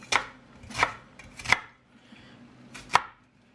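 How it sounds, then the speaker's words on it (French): A knife chopping an onion on a board, four crisp, separate cuts at an uneven pace, close and clear with nothing else in the background. "va tailler l'oignon"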